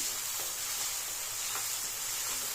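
Green chillies frying in hot oil with tomato for an egg gravy masala, giving a steady, close hiss of sizzling with faint soft ticks and no voices.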